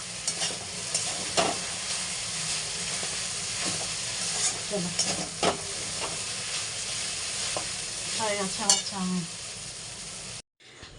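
Chow mein being stir-fried in a pan fills the clip with a steady close sizzle and hiss, broken by scraping and clattering strokes of a spatula, with faint voices in the background.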